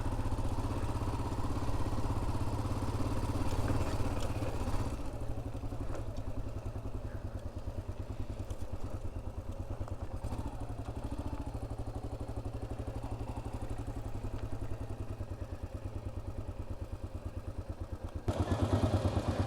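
A Yamaha Ténéré motorcycle from 1988 runs steadily close by on the Trans-Amazonian Highway, a constant rumbling idle that continues throughout with no talking.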